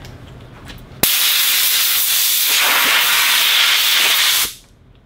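Compressed air blasting onto a parkerized blade, a sudden loud, steady hiss starting abruptly and lasting about three and a half seconds before tapering off, close by and alone.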